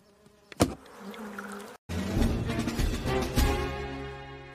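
Loud, dense buzzing of bees fills the air close by, with a brief cut of silence partway through before the swarm hum returns.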